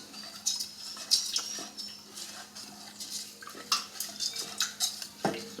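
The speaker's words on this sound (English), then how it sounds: "1 cup of white sugar, which I'm going to stir around a little bit to dissolve it" A spoon stirs white sugar into a cup and a half of water, clinking and scraping against the container in quick, uneven strokes. The sounds are close and fairly quiet, with no voices.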